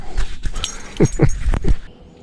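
A dog close by at a campsite gives a few short whimpering yelps in quick succession, wanting to eat, then falls quiet.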